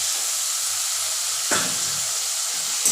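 Boiled banana flower drops into hot spiced oil in a pan, setting off a sudden loud sizzle midway that hisses and fades after a quiet low simmer.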